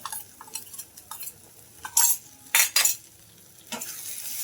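Spices being stirred and mixed in a pan for besan bora curry, a utensil scraping and clinking against the metal in short irregular strokes with brief louder scrapes, close and fairly quiet, no talk.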